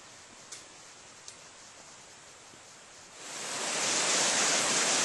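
Steady broadband rush of a flowing mountain stream, soft at first then swelling louder after a few seconds, with a couple of faint ticks early on.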